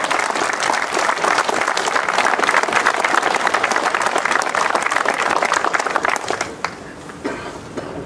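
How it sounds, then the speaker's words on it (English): Warm applause from a crowd at an Orange Order and Protestant march gathering, dense sustained clapping that stays loud and steady before thinning out near the end. "give them a warm round of applause"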